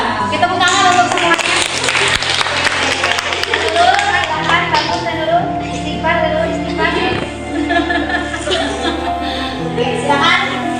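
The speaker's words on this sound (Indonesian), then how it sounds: "Kita tepuk tangan untuk semuanya." Eleventh-grade Islamic studies class clapping for their classmates, loud, irregular hand claps mixed with children's voices and chatter over about ten seconds.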